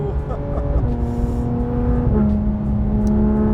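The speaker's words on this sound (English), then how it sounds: "car that everyone wants to know about, wants to see on the channel. This glorious GT3 RS." Porsche 992 GT3 RS sports car driving, its engine droning steadily and loud with two audible gear changes, heard from inside or close by with no talking over it.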